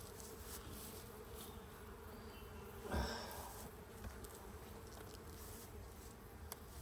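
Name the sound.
honey bees buzzing in an open beehive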